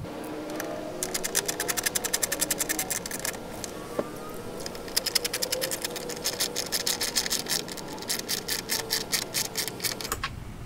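10mm bolts go back into a BMW F30 tail light, heard as bursts of rapid, buzzy ratcheting clicks close by, starting and stopping several times with short pauses between them.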